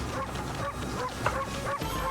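A dog enemy in the video game Ōkami barks and yips repeatedly in a rapid, continuous burst, loud and dense over game music and effects.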